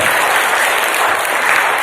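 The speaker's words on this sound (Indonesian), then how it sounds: "Tepuk tangan semuanya." Audience at a motivational sharing talk bursts into brisk, dense applause, loud and steady throughout the short stretch with no voices over it.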